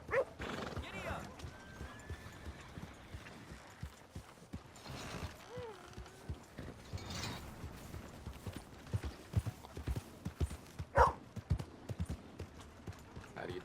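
A horse in the video game Red Dead Redemption 2, its hooves clip-clopping at a steady trot with occasional snorts and a whinny, mixed with game sounds while a voice talks over it.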